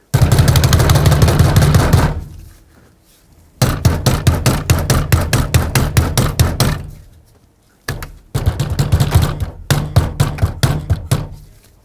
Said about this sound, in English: I'm just going to tap on the steering wheel